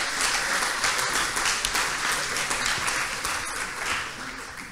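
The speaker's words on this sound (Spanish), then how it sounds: "despedimos al equipo con un fuerte aplauso" An audience at a startup demo day gives a departing team a hearty round of applause, a continuous, fairly loud crowd clapping that holds steady and then begins to thin out toward the end.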